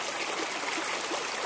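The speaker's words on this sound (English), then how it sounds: "right in front of me here is a spring that's gurgling right out of the rocks here" Spring water gurgles steadily out of rocks in a mountain setting, a dense, continuous close-up wash of bubbling flow with no voices.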